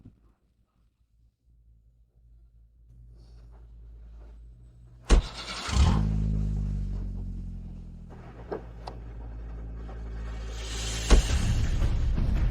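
A car engine starts after some quiet, then idles and revs steadily with a few sharp clicks and thumps, close by and with no talking.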